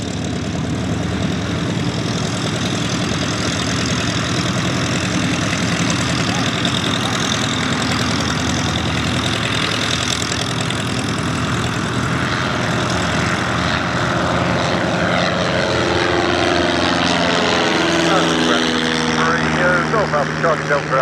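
Light propeller aircraft lining up and departing at an airshow, a steady loud engine drone throughout that builds toward the end as power comes up for takeoff, with radio chatter over it.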